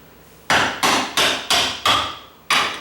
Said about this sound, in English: now I can just tap that out with a little screwdriver